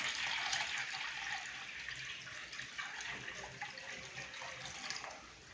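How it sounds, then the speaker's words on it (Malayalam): Water pours steadily into a makeshift fish tank made from a disposal bag, a continuous rushing splash that runs for several seconds and then eases off slightly at the end, with no voices. "ലീക്കൊന്നും ഇല്ലാത്ത സ്ഥിതിക്ക് നമുക്ക് ആവശ്യത്തിന് വെള്ളം ഒഴിക്കാം"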